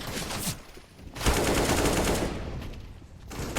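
Pistol fire in Counter-Strike: Global Offensive on the B bomb site, several rapid loud shots in quick bursts separated by brief gaps, with no talk over them.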